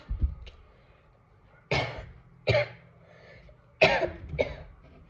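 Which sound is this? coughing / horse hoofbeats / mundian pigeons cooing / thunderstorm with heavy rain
coughing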